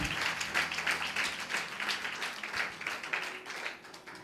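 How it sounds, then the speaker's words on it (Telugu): A church congregation claps together in praise during a worship service, a dense, rhythmic burst of many hands that keeps going steadily, with faint voices underneath. "క్లాప్స్ పెట్టి దేవుని మహిమపరుద్దాం"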